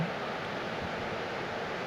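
Steady, soft wash of ocean waves breaking in calm nature, a continuous even hiss with no distinct crashes, heard alone at a gentle level.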